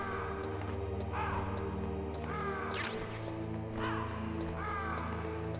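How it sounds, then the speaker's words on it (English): Crows in Metal Gear Solid give harsh, repeated caws at intervals over a droning ambient hum, fairly faint and somewhat distant, about four distinct calls. "These damn birds."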